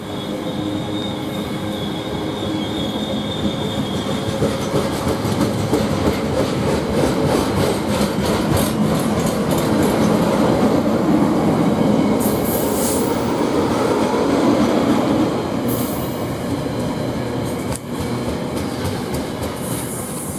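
A container freight train rumbles steadily past as it departs Didcot Parkway station, with rhythmic wheel clatter and occasional squeals, loud and continuous with no talking.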